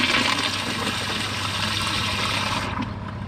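A Kohler Pressure Lite pressure-assisted toilet flushes 30 bottle caps with a loud, steady forceful rush of water that cuts off abruptly near the end, leaving quieter refill trickle.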